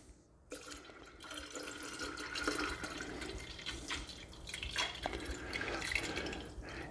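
Simple syrup is poured into lemoncello liqueur, a soft continuous trickle and splash of liquid that runs for several seconds, quiet and close.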